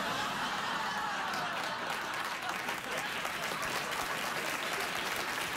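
A late-night talk show studio audience gives steady, full applause, a dense wash of clapping that stays even throughout with a little laughter mixed in.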